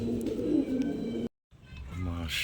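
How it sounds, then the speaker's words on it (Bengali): A pair of top-quality Shialkuri pigeons coo close by in soft repeated rolls, broken by a brief silent cut midway before the cooing resumes. "দিয়ে দিলাম এক জোড়া একদম টপ কোয়ালিটির শিয়ালকুড়ি কবুতর"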